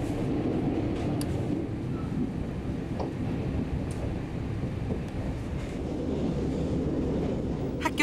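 A Gyeongchun Line passenger train heading toward Chuncheon departs early in the morning, a continuous low rumble of rolling wheels and carriages with occasional faint clanks and squeals, steady and moderately distant.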